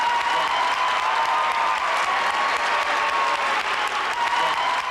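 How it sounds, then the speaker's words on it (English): An audience applauds a taekwondo grand master standing to accept it, steady and full clapping that stays constant throughout without pause. "he stands here to accept the people's applause"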